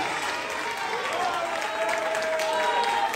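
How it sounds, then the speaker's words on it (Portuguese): A church congregation applauds steadily throughout, dense clapping filling the room with a faint sustained tone running beneath it. "dê a melhor salva de palmas e glorifique o nome dele"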